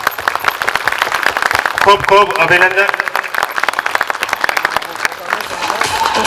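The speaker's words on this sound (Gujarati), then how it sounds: "જગ્યા ઉપર ઊભા થઈને જોરદાર તાળીઓ થઈ જાય" Audience clapping vigorously for a girl's speech, with dense, rapid claps throughout and a voice speaking over the middle of the applause.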